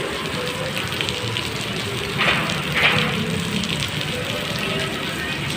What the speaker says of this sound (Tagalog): Ayan mga kapatid, abutan tayo ng malakas na ulan.